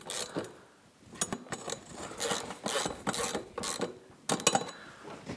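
Mounting bolts being tightened on a 2015 RZR 900S, with close ratcheting clicks in short irregular bursts and pauses, and no talk.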